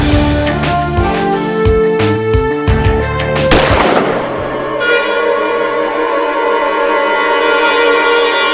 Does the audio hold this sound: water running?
no